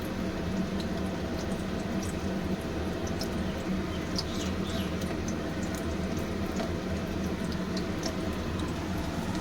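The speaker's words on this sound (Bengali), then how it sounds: "এই যে পনিরটা ভেজে তুলেছি, বাকিটা এই যে ভাজছি" Paneer pieces frying in a pan, with a soft, steady bubbling sizzle and faint crackles held at an even level throughout, no voices.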